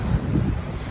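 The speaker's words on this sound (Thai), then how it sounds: "มีหนาวลมแรง" Strong cold wind buffets the microphone beside the sea on a cold, windy Finnish day of boats paddling through waves, a steady low roar with surf mixed in and no voices.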